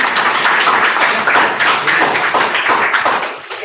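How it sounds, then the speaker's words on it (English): Dense applause from a crowd fills the room for a presenter, steady and loud, with no speech, fading slightly at the end. "I think you deserve a clap"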